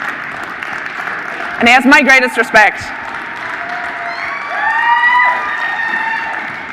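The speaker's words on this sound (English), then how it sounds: "round of applause for this man" At a medieval swordsmanship demonstration at a fan convention, someone speaks briefly, then the crowd claps and cheers for a former SCA fighter, with moderate applause, whistles and shouts rising over the room.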